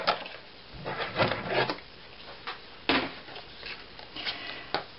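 Paper being scored with a scoring tool along a half-inch line for a scrapbook mini album pocket, heard as several short, close scraping strokes with quiet gaps between them.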